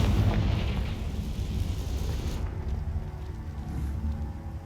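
The Confringo fire spell exploding in Hogwarts Legacy: a loud booming blast with a crackling burst up front, then a rumbling decay and lower-level roar that fades over several seconds.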